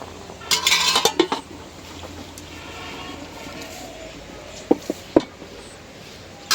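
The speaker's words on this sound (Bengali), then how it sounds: "এখন মাংস রান্না করার জন্য কড়াই বসাই দিই।" A metal kadai wok is set on a stove for cooking chicken, with a burst of clattering metal early on, then several sharp, separate clanks against a quiet kitchen background.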